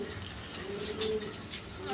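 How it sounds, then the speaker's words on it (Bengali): A pair of big Maltese pigeons coos softly, with low rolling calls recurring over a faint background hiss. "এই পেয়ারটা হলো মাল্টেস কবুতর একদম বিগ সাইজের"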